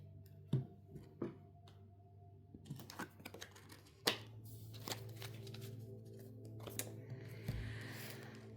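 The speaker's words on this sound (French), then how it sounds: "je vais vous sortir encore une carte" A tarot card is drawn from the deck: soft, sparse taps, slides and flicks of card stock, fairly quiet and close, with no one speaking.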